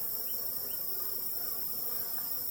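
Bees buzz steadily around a caught late-season swarm, a faint continuous drone with a few individual bees passing close; no voices.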